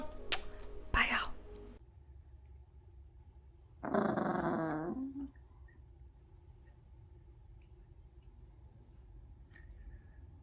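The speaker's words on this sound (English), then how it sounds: "watch my puppies be shitheads" Puppies growling at play indoors, with a burst of close rough snarling and yips near the start and another longer growling bout midway, plus faint whispered talk underneath.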